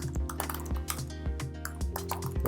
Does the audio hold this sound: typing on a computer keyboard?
yes